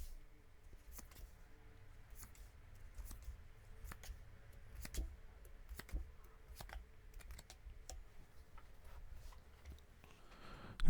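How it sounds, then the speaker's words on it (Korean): Tarot cards being drawn and shuffled during a reading, producing a quiet, steady run of soft card flicks and taps, close up and without talk. "카드 뽑아볼게요"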